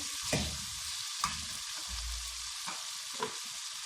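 A steady, fairly quiet sizzle of frying in a pan for aloo palak saag, broken by a few soft spoon taps and stirring clatters.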